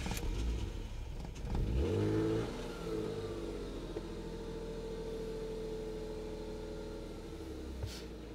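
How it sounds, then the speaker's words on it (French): A car engine cranks and fires up after an EcoFuelBox ethanol kit installation, a brief rising rev at the start settling into a steady, fairly quiet idle, heard close with no talking. "Comme tu as pu voir, elle démarre sans problème."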